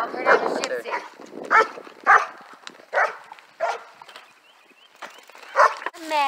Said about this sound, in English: Uncle Gary's dog her name is Gypsy